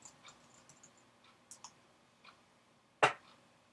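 A computer keyboard typed on at a desk, giving a few sparse, soft key clicks spread across the moment with one sharper, louder click near the end, no voices.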